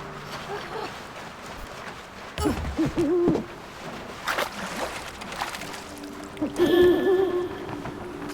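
An owl hoots in the video game Never Alone, a few clear hoots rising over quiet ambient game sound with flowing water and scattered movement noises.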